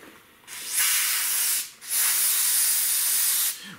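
Brake cleaner sprays from a spray bottle onto a Toyota Avalon's front brake parts in two close, loud, steady hissing bursts, the first about a second long and the second longer, separated by a brief pause.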